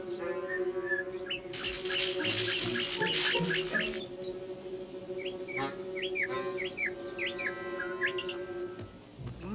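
A mockingbird sings a varied run of bright chirps and whistled phrases, close and moderately loud over a low steady hum, with a busy burst early followed by scattered separate notes.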